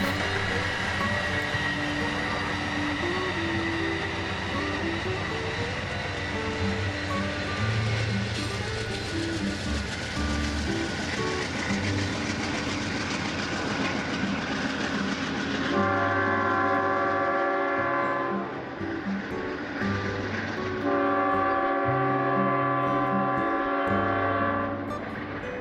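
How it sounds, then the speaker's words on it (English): Amtrak train 504 in Cascades colours, led by a non-powered F40PHR cab unit, rolls past near Albany, Oregon, with a steady rumble of wheels and cars, then loud, repeated horn blasts toward the end. "I caught Amtrak train 504 again, this time with the non-powered F40 PHR leading"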